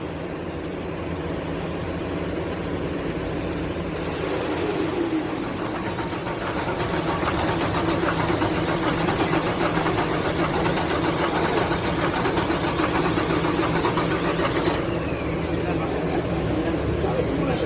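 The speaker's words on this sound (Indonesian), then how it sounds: "Nah ini paradis tes mesin ya mau dinyalain ini" A serviced engine starts and settles into a steady, loud rattling idle that runs continuously, with a faint click near the end.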